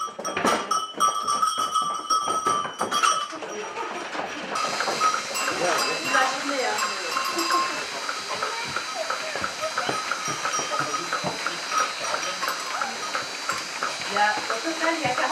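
A herd of 48 goats moving close by, bells clanking steadily with bleats and shuffling hooves, and voices faint in the background.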